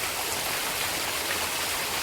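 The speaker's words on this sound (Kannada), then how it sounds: "ಜೋರಾಗಿ ಮಳೆ ಬರ್ತಾ ಉಂಟು" Heavy rain pours onto a river in a dense, even roar, close and loud, with no talk.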